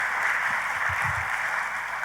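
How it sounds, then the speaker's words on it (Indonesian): Church congregation applauding together during a sermon, a steady wash of many hands clapping at moderate distance, continuous for a couple of seconds with no voices on top. "Tepuk tangannya yang paling meriah buat Tuhan kita."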